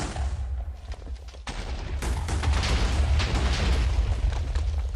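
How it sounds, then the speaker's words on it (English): A game explosion: a dull thump followed by a loud, sustained crackling blast that rumbles on for several seconds, with no voices. "From the delicious vanilla explosions of TNT"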